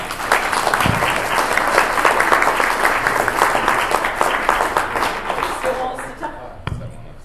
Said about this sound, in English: if we can get one more round of applause for our panelists